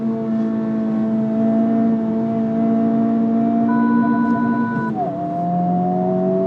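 Turbocharged inline-four 2023 Honda Civic Type R FL5 on track, engine droning loudly in-cabin as revs climb, then a quick gear shift drops the pitch before it pulls again.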